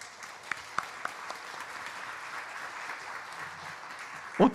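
Scattered claps and low crowd murmur from a church congregation, fairly faint and diffuse, ending with a louder burst of hand noise near the close.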